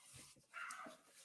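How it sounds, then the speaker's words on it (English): A neighbor's dog barks once, faint and distant, a brief muffled yap over low background noise. "the neighbor's dog is mad"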